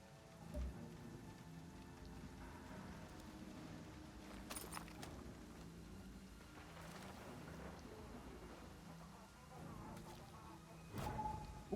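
Steady video game rain from Far Cry 6 patters over a low rumbling background, with occasional sharper splashes and a brief louder burst near the end; no voices.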